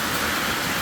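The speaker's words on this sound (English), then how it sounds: "We're pouring down rain in a metal building." Heavy rain drumming on a metal building's roof, a dense hissing roar without a break.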